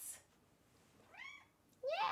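A house cat meows twice, two short rising calls close to the microphone, with a faint hiss before them and quiet room tone in the gaps.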